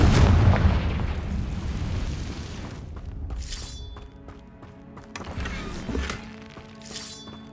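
A Confringo fire spell exploding in the video game Hogwarts Legacy: a loud, deep boom opens, then rumbles and decays, with sharp bursts and crackling pops following near the end.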